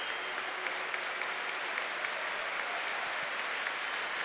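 A stadium crowd at a Premier League football match between West Ham and Burnley applauds steadily, a dense and even wash of distant clapping that holds for the whole stretch with no talk.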